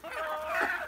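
Creole laying hens cluck softly in a short, quiet burst of fowl calls heard close by.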